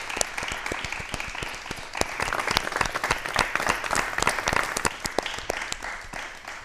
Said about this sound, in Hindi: मीना जी के मैम इतने खूबसूरत सवाल के साथ एक जोरदार ताली होना चाहिए